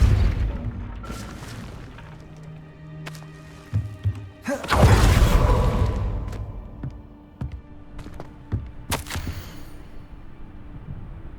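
Spell cast in the video game Hogwarts Legacy: a Depulso force spell lands as a heavy booming thud mid-clip, followed by a few sharper impacts, over low ambient game sound.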